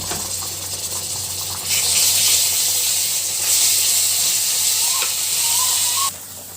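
Garlic paste hits onions frying in a pan and sets off a strong, steady sizzle that swells louder partway through, continuing as a bright hiss before cutting off abruptly near the end.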